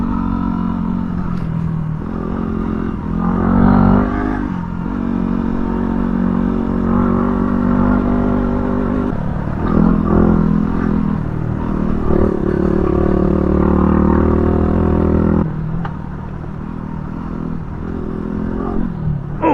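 Yamaha WR dirt bike engine droning steadily while riding on trails in Central Oregon, with gear rattle and scraping clatter and a continuous close engine note throughout.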